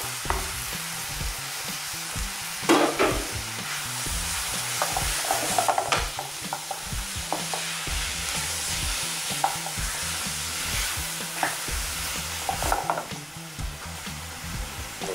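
Onion and garlic sizzle in a pan for an onion sauce while a utensil stirs them in steady scraping sweeps, a continuous close frying hiss with occasional louder knocks and no voices.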